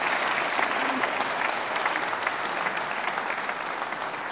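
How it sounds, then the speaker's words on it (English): Steady applause from a lecture audience, dense and even clapping that fills the whole stretch at constant loudness, with no speech over it. "give her a big round of applause"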